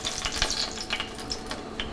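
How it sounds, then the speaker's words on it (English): Excess oil poured off a frying pan used for cooking veal, a steady liquid splash and trickle with faint sizzling, close and continuous for about two seconds with no talking. "We don't necessarily want too much of this oil, so I'm gonna pour some of it off."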